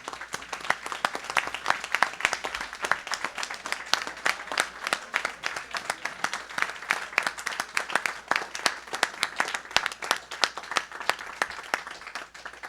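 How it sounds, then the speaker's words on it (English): Scattered applause from a modest crowd at a school board of education meeting, individual claps clearly audible in an uneven, moderately loud patter lasting over ten seconds. "can we give them one more big round of applause"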